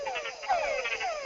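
A recorded frog mating call comes as a quick series of pulsed, descending croaking notes, loud and close against a quiet background, ending in a sharp click.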